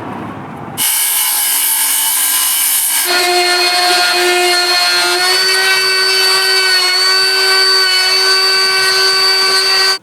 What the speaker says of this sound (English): That router's kind of fun.